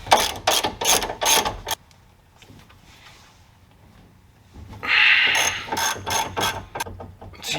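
Two bursts of rapid ratchet clicking, near and loud, as a hand ratchet loosens a sway bar end link nut on a 2015-or-later Subaru WRX, with a quiet pause between the bursts.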